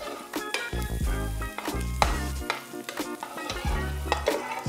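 Beef sausage frying and being glazed in melted butter in a pan: a steady close sizzle runs throughout, broken by repeated scraping stir strokes and occasional clinks of a utensil against the pan.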